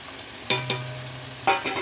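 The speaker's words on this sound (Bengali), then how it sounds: "মশলাগুলো দিয়ে দিলাম" Spices sizzle in a hot pan and are stirred with a spoon, with two sharp scraping strokes over a low steady fry, close up and alone.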